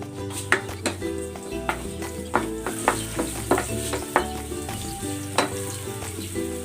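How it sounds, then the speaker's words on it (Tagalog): Chopped onion sautéing in hot oil in a pan just emptied of fried chicken breast, a steady sizzle broken by repeated sharp clinks and scrapes of a utensil stirring against the pan, close and fairly loud with no talking. "Igisa natin itong sibuyas."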